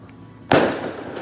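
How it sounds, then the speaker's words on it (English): A firework explodes in a street in Roxas City, Philippines: a single loud, sharp bang that trails off into a decaying rumble. "Ooh, did you hear that? That's like a loud bang. That's like the fireworks, man."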